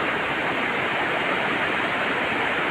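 Water pours and splashes steadily, like a small waterfall or rushing stream, with a dense continuous broadband roar that stays loud and constant throughout with no voices.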